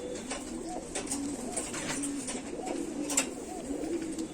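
A mated pair of pigeons coos softly, with repeated low, throaty calls in a gentle rhythm against quiet background noise and no talking.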